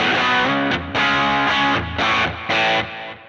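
Distorted electric guitar chords through an AC44-style amp model on a Helix, bright amp setting, ringing out crisp, a few sustained strums with short breaks between them.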